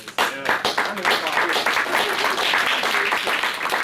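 Audience applause at a summer symposium, dense clapping rising suddenly and holding steady close by, with speech mixed in over it.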